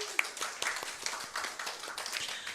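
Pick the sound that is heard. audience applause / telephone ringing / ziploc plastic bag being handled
audience applause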